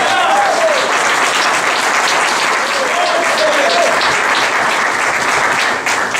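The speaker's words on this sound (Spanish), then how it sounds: "Dale un aplauso al Señor por los días." A church congregation at a Christian conference applauds in steady, dense clapping that lasts throughout, with a faint voice briefly audible near the start.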